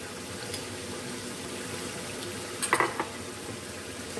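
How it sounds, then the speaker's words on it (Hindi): Yogurt being stirred into chicken masala frying in a kadai: a soft, steady sizzle with a few quick metallic clinks of the spoon near the end, faint and fairly close. "दही को भी हम मिक्स कर लेते हैं"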